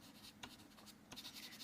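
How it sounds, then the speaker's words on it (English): Soft, dry scratching of pastel dragged across paper, a continuous gritty rustle with a couple of sharper strokes, close and quiet. "I'm laying down a layer of white soft pastel"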